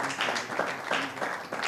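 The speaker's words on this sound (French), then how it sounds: "Et nous pouvons les encourager avec nos applaudissements." Applause from a studio audience for contestants on a French health quiz show about oral hygiene, a steady, moderately faint wash of clapping that continues throughout with no talking over it.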